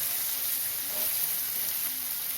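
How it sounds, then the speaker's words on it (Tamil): Tomatoes sauté in a hot pan for curry leaf pepper garlic kuzhambu, giving a continuous, even hiss of sizzling oil without a break. "தக்காளியாக ரொம்ப வதங்கணும்னு அவசியம் இல்லை ஒரு ரெண்டு நிமிஷம் வதங்கணும்"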